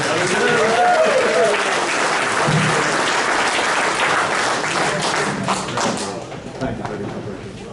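A racing hall of fame banquet audience gives a loud, dense round of applause for an honoree, sustained clapping that gradually thins and fades toward the end, with some voices mixed in.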